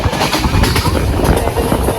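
A passenger train on the way to Lonavla rumbles loudly along the rails, heard from inside a carriage as a dense continuous roar with rhythmic clatter.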